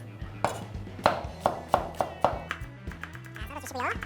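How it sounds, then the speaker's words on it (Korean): A knife scores a Korean green onion (daepa) on a cutting board with a quick run of rhythmic taps, while someone talks over them. "이렇게 칼집을 내서"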